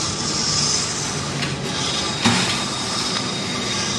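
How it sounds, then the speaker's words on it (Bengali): A metro train arrives at an elevated station in Kerala, a steady low rumble of rolling wagons with faint wheel noise, moderately close and continuous, with no talk. "ট্রেন ঢুকেছে এই লাইনটা দিয়ে"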